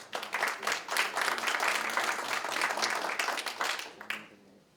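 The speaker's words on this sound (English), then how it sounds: "Let's give Helping Hands Foundation a round of applause" An audience applauds the Helping Hands Foundation at a Turkish Cultural Center donation event for the Queens Library, a steady wash of clapping that holds for several seconds and then tapers off.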